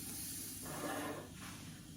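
Steak sizzling on a sizzle pan outdoors, a steady close hiss that briefly swells into a brighter spitting burst and then settles back, with no talking.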